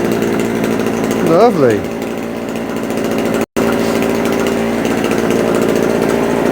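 A two-stroke generator engine runs steadily with a loud, even buzz throughout, continuing on fuel left in the carburetor, while someone speaks briefly over it.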